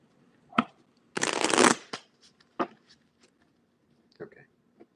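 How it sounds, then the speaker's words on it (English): A deck of tarot cards shuffled once in a short, dense riffle, with a few lighter card taps and handling sounds before and after, close to the microphone. "this needs to be shuffled again"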